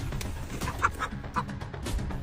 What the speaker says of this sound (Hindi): इन मुर्गियों ने इतना शोर क्यों मचा रखा है?